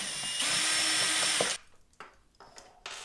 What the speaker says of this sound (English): we'll go ahead and remove this nut holding the reflector back here on